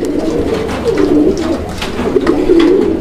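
Lakka pigeons, white and black, coo loudly and close in a repeated rolling rhythm, with several overlapping calls and no voices.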